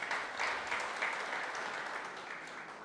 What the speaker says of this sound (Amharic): መጀመሪያ ለእናንተ አጨብጭቡ